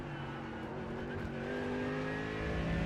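Race car in the iRacing simulator: a steady, fairly quiet engine drone with sustained tonal whine, gradually shifting as the car slows into braking, with faint tire noise and no speech.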